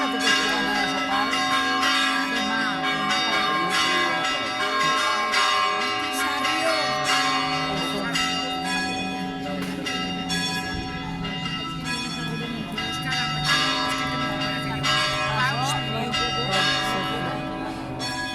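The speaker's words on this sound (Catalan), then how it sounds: "És el concert de les campanes." Church bells in a bell concert in Picanya ring continuously with overlapping strikes and a steady, loud, dense peal, with some voices faintly underneath.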